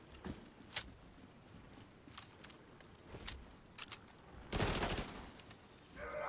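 Shotgun fire in The Division 2 game, heard as several sharp, separate blasts spread across the scene, then a louder, denser burst of firing, all fairly close amid a faint background.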